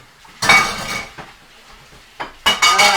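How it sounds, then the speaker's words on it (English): Dishes and cutlery clatter and clink during household dishwashing, in two loud bursts of rattling separated by quieter, sparse knocks, with no talking. "Hate doing the dishes."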